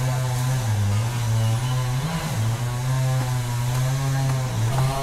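An edge trimmer runs outdoors nearby with a steady, buzzing two-stroke whine that dips and rises slightly in pitch. It is heard alone, without talking.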